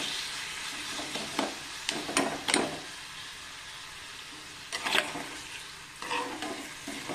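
Curry leaves drop into hot oil for a tempering in a tomato curry, giving a steady sizzle with several sharp crackling bursts and stirring clatter, close and moderately loud.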